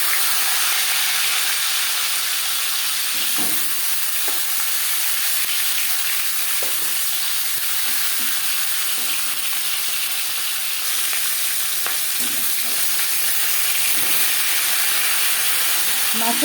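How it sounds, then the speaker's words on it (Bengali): Marinated fish head frying in hot refined oil, a steady loud sizzle and hiss that runs unbroken throughout, with faint clinks of a utensil now and then. "আমি রিফাইন্ড অয়েল গরম করে নিয়েছি এবার দিয়ে দেবো ম্যারিনেট করে রাখা মাছের মধ্যে"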